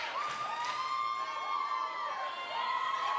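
Crowd in a high school fieldhouse at a Wakefield vs Beverly volleyball game cheers and shouts at a moderate distance, with a sustained high whistle-like tone running through the din.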